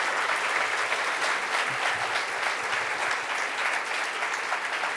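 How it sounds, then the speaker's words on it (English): A conference luncheon audience gives sustained applause after a keynote speaker, a dense even wash of clapping from many hands that holds steady throughout. "Let's have a round of applause for him."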